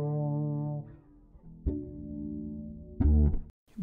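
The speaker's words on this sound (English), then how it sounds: "the automation on the chorus and the reverb as well. It just adds a lot of depth and mood and atmosphere to the Fretless bass." Fretless bass played through chorus and reverb effects, sounding as a few long sustained notes with smooth glides and lingering, shimmering tails, close and alone.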